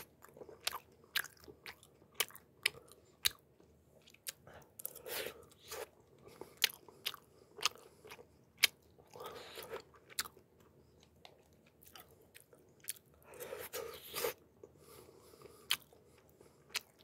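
Close-up eating of CJ Mijeongdang soup tteokbokki, a sparse series of soft wet chews, squishes and occasional crunchy bites with quiet gaps between them and no talking.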